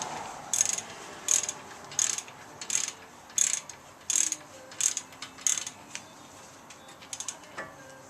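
Ratchet wrench tightening the front brake caliper bolts on a 2014 Ford Explorer Sport, a close run of about eleven quick clicking bursts in a steady rhythm, then a faint metallic clink near the end, with no talk.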